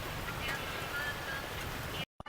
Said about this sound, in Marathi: अयो पाऊस वाढला राव